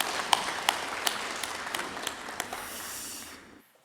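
Applause at a church prayer service, scattered sharp claps over a soft wash of clapping that thins out and fades to silence near the end.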